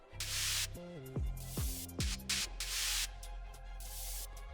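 Layered white noise, a normal layer plus one pitched down nine semitones, in a moombahton remix beat: loud hissing noise bursts repeat over sliding synth bass stabs, with no voices.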